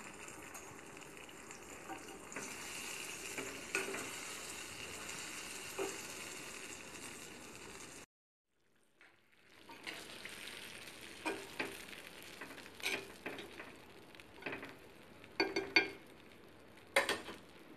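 Soaked lemon pieces fry in hot sesame oil for a homemade spicy pickle, giving a soft steady sizzle. After a brief silence the sizzling returns with clinks and scrapes of stirring in the pan.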